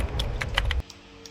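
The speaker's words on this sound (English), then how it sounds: "the third thing I want to add when I add this shot is the keyboard sound. So I just added keyboard sound" Computer keyboard typing added as a sound effect, a quick, close run of crisp key clicks that stops abruptly after under a second, leaving a quiet hum with one faint tap.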